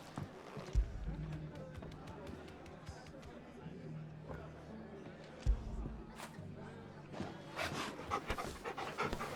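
A wolf pants steadily in the video game Final Fantasy 16, close and rhythmic, with thumps and muffled background chatter.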